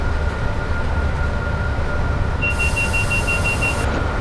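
A locomotive in a train simulator game accelerates on a Cardiff Central to Glasgow Central express near Shap, giving a steady, loud rail rumble and engine drone throughout, with a repeated pulsing electronic tone joining partway through.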